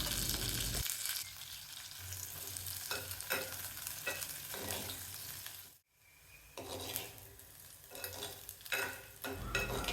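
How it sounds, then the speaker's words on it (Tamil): Small pieces of washed, cut bitter gourd sauté in hot oil with a loud close sizzle, stirred in repeated scraping strokes, with a brief near-silent pause midway before the frying resumes. "அதை இப்போ எண்ணெயில் சேர்த்துட்டு நல்லா வதக்கணும்"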